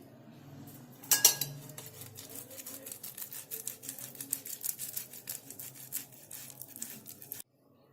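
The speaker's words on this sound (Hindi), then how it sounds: "साबूदाना वड़ा के लिए पहले हम आलू को कद्दूकस कर लेते हैं।" Potatoes are grated for sabudana vada: a run of quick, rhythmic scraping strokes against the grater, close and fairly quiet, after one sharper knock at the start.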